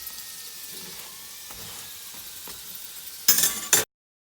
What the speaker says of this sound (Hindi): अब हम लोग दूसरी साइड से भी अच्छे से पका लेंगे